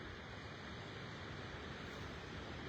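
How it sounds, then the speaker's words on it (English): Ocean waves surging against the base of a sea cliff at the Bay of Islands on a calm sunset, a steady broadband wash of surf with some wind, continuous and moderately distant. "the waves bending in, caressing the edge of the cliff"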